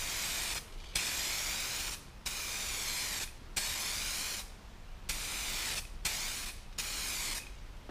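Aerosol spray hisses steadily as a thicker second coat goes onto a car headlight, broken into about seven long passes with short pauses between them, close and continuous.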